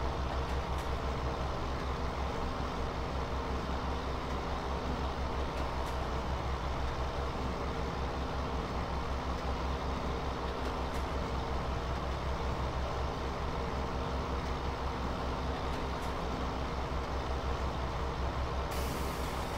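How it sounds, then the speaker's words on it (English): In a farming game, a tractor tows a baler around a field, its steady engine drone and mechanical hum running without a break at an even level, with a few faint clicks on top. "this baler might have to go on the back of another tractor just to speed things up"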